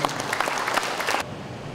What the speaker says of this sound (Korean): 박수를 한번 받아보시고